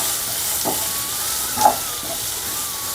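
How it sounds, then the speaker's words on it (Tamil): Onions with salted ginger-garlic paste sauté in a pan for coconut milk pulav, a quiet steady sizzle with a couple of soft stirring scrapes, close and alone without speech. "இந்த வெங்காயம் வதங்குறது அதிலே ஈஸியாக வதங்கிடும்"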